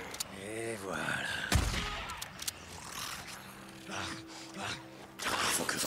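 Gunfire in the video game Days Gone: one loud, sharp shot, then a few lighter cracks mixed with other game sounds.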